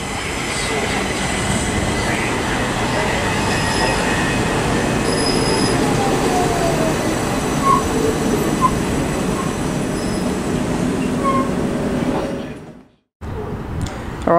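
Southeastern Class 375 electric unit 375812 pulling out of Sevenoaks station on the South Eastern Main Line, a loud, steady rumble of rolling stock with faint wheel squeal that runs close by for most of the clip before cutting out abruptly.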